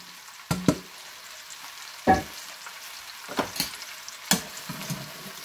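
Aubergines tipped into hot oil in a frying pan give sharp bursts of loud sizzling, with several separate crackling surges as the pieces are stirred, close and without talk.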